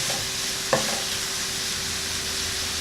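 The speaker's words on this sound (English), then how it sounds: "The idea here is to let the onions brown a little bit in the meat or the beef." Beef and onions sizzle steadily in a pan for a wet fry beef dish, with a single sharp scrape of stirring near the start over a constant, even frying hiss.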